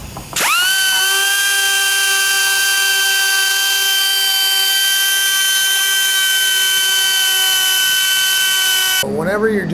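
A power grinder whines at a steady high pitch for about eight seconds, loud and close, as it grinds out damaged fiberglass on a 1973 442 hood, then spins down abruptly.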